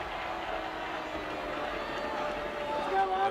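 High school football crowd at Neshaminy reacting with a steady, unhappy murmur of voices after a penalty flag, a broad wash of crowd noise heard from a distance.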